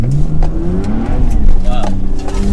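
A Lexus IS200 engine revs close up, a loud, steady mechanical drone with rising and easing pitch that runs throughout.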